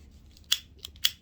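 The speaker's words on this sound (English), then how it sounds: "It's okay to cut it with scissors." Scissors snip through a trim edge with three quick, crisp cuts, close and clear over a quiet low background hum.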